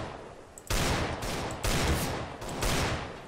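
Gunfire in Counter-Strike: Global Offensive: three loud, sustained bursts of rapid shots in close succession, each lasting under a second, with no talk.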